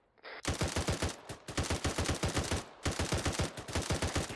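Automatic gunfire in the video game Arma 3 with the 3CB BAF mod: a loud, near, sustained stream of rapid rounds in regular bursts, pausing briefly twice before resuming at the same steady rhythm.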